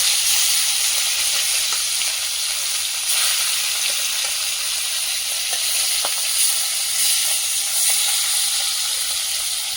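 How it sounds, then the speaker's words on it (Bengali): Fish frying in hot oil in a wok, a steady bright sizzle and hiss that holds close and loud, broken by small crackles and pops. "এই তো মাছ ভাজা হচ্ছে"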